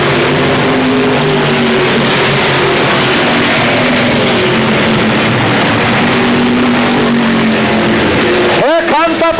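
Late model stock cars race around Motordrome Speedway in a 1994 50-lap feature, a steady loud engine roar sweeping past with shifting pitch, while an announcer talks over it nearly throughout.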